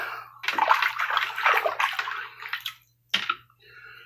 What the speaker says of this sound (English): Rinse off the stone a bit